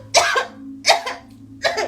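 Three separate coughs, close and fairly loud, spaced about three quarters of a second apart over a low steady hum in an indoor room.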